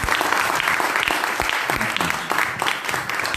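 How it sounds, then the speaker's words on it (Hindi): Seminar audience clapping loudly in a room, a dense rapid patter of many hands with a few sharper individual claps standing out, steady throughout. "तो मैं चाहूँगा कि इनके लिए आप और जोर से तालियां मारें।"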